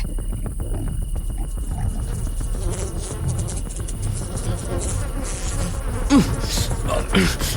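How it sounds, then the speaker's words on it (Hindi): Buzzing swarm of mosquitoes as a sound effect in a Hindi horror audio drama, a steady insect drone running throughout with a couple of brief louder swells near the end. "इतने मच्छर अचानक कहाँ से आ गए?"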